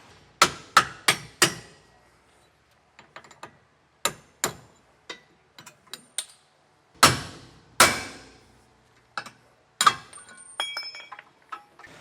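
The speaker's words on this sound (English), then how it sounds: "I'm going to get down there and hammer them all out" A hammer striking a punch to drive bolts out of the leaf spring hangers on a 2022 Genesis Supreme trailer, sharp metallic blows in quick bursts separated by pauses, close and loud with ringing clinks.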